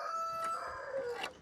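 A rooster crows in a backyard chicken coop at a family home, with hens kept for eggs; a single drawn-out, tonal call rises and falls over about a second, fairly close and clear, with no talking.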